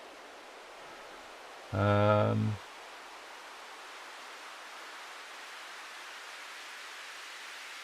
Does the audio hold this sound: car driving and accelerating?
no